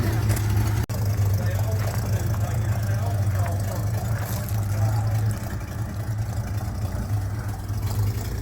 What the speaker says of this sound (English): You got an exhaust leak.